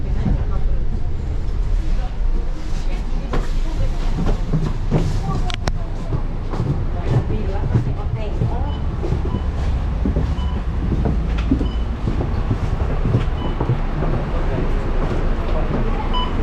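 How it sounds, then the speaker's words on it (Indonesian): A Singapore MRT train rides from Tanah Merah with a continuous rolling rumble, rhythmic rail clicks and occasional sharp clacks, while people talk in the background. "jadi sekarang kita akan turun naik MRT ya. Jadi kita naik MRT dulu"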